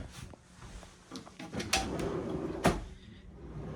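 Soft-close drawers on a Beneteau Oceanis 54 yacht interior opening and closing, giving a few muffled slides and gentle thuds close by, with two sharper knocks standing out, no talk over them.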